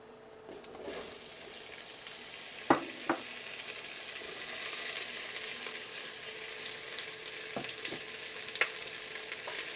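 Zucchini frying in olive oil in a medium-sized pot over medium heat, giving a steady, moderate sizzle throughout with a few sharp clinks of a utensil against the pot.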